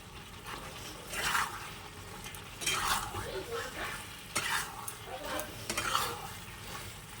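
Chicken pieces fry and sizzle in a pan as a spoon scrapes and stirs them in repeated bursts, close up, with no talking.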